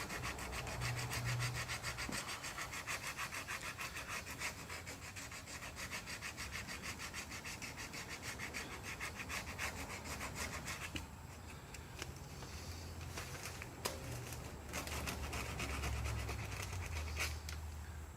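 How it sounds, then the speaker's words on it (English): Fiberglass bumper on a shuttle bus RV conversion being roughed up by hand before filler, a steady, continuous scraping and rubbing that runs throughout, close and fairly loud with no talking. "Just going to rough this up a little,"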